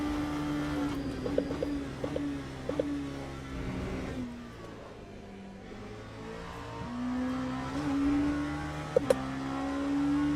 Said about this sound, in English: I do love the sound of an MP2.